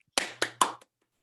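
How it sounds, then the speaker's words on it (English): One person claps three times, sharp and close, in a quick even rhythm at the end of a virtual seminar, followed by a faint fourth tap and then silence. "Had to give you the real clap there, John."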